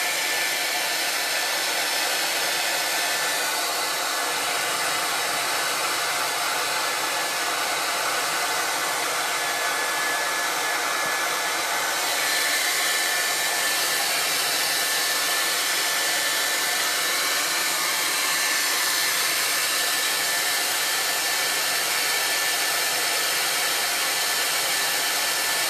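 A hair dryer blows steadily and loudly on chalk paste spread over a Halloween pumpkin craft transfer, a continuous unbroken roar with a slight shift in tone partway through.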